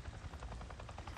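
A helicopter in the video game Days Gone chops rhythmically with fast, regular rotor thumps, faint and somewhat distant, with no talk over it.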